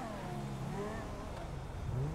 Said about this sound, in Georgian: რანაირი ხმა აქვს ამ მანქანას ძრავზე